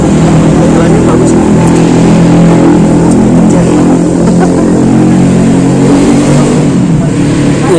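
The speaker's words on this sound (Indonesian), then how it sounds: "Jadi banyak suara motor." Motorbikes pass along a roadside beside a forest, their engines making a steady, loud mid-pitched drone that rises and falls throughout, with occasional voices mixed in.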